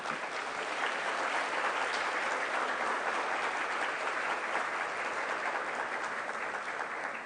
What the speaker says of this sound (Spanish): Así que voy a pedir un fuerte aplauso para ella.